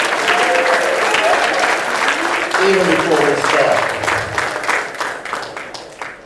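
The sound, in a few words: applause from concert audience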